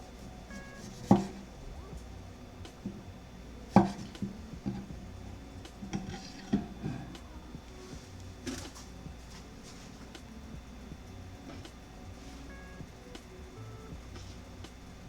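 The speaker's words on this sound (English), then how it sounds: "it's a really small piece of ginger, so I'm just gonna cut around the edges" A knife cutting around the edges of a small piece of ginger on a board, with a few sharp, isolated chops and light scraping taps spread over a quiet kitchen background.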